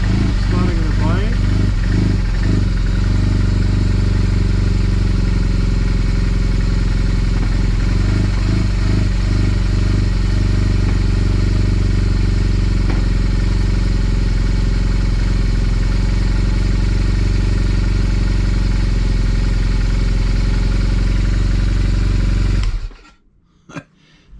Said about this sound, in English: Starting the bike.